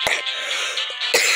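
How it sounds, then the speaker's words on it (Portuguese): Two sharp, harsh coughs from a person with a lingering chest cough that has lasted over a month, one at the start and one near the end, close and fairly loud, with a faint hiss between them. "mais de um mês que eu tô com essa tosse"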